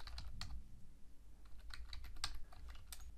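Code being typed on a computer keyboard, a quiet run of close key clicks in short bursts with brief pauses between them.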